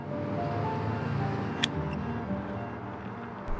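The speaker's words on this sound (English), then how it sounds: "It's city noise," Steady city traffic noise surrounds an urban farm, a continuous low rumble of distant vehicles with a brief sharper sound partway through.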